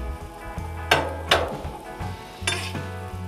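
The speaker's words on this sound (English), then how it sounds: "I'll drop some onions on there" Onions sizzling on a Blackstone griddle, with sharp bursts of frying hiss and metal spatula scrapes over a steady background sizzle, close up and with no voices.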